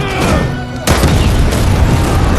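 A movie explosion set off during a gunfight with mafia killers: a loud, dense blast hits about a third of the way in and rolls on as a sustained rumbling roar to the end.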